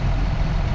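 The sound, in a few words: tractor engine idling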